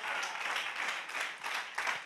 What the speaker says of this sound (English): Clap your hand and give God a praise